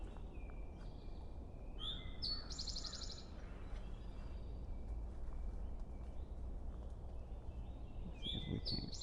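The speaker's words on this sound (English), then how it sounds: "Sort of an adaptation on the Drink Your Tea song." Two songs from a towhee, each a brief pair of clear notes ending in a fast rattling trill, separated by several seconds of quiet outdoor ambience.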